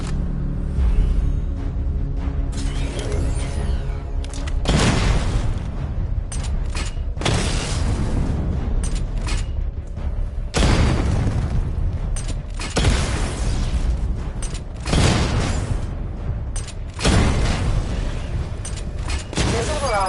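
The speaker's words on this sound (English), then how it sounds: "Destroy targets to charge up weapon energy and activate missile barrage" Missile barrage explosions in the video game Batman Arkham Knight: a series of loud, broad booming blasts arrives in bursts a few seconds apart over a constant background of mechanical game sound.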